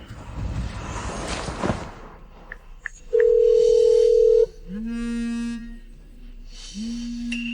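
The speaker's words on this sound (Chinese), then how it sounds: "阿宇，你快打电话叫他过来" A telephone call being placed: after a burst of handling noise, a steady electronic tone holds for about a second, then shorter rising tones follow in a repeating pattern, clear and close.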